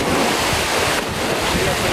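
Strong wind buffets the microphone over steady surf at a hot, dusty beach where kite surfers ride the waves, a loud continuous roar with gusty low rumbling and no speech.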